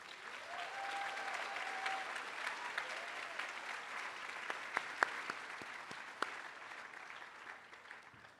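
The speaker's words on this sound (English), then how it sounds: "You may now applause." Applause from the audience at a MassBay Community College commencement as the platform party is welcomed, a fairly distant, steady wash of clapping with a few sharper individual claps standing out toward the end.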